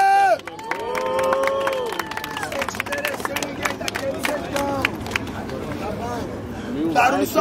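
Spectators at Batalha do Coliseu, a rap battle, cheer and shout loudly for Lili in a dense sustained roar with clapping and whoops, then rise again in a final burst.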